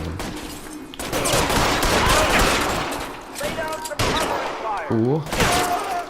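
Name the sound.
gunshots in the video game L.A. Noire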